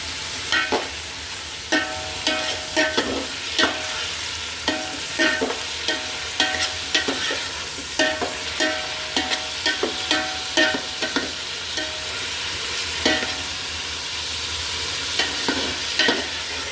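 Bottle gourd stirred and frying in ghee for a bottle gourd milk sweet: a steady sizzle under repeated scraping, clinking strokes of the spoon against the pan, close and fairly loud, with no voices.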